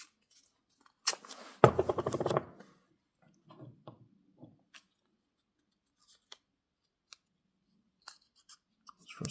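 Adhesive tape rips off its roll in a loud, rasping burst lasting about a second while being applied to a Swiss Army knife, followed by sparse faint ticks and small handling clicks.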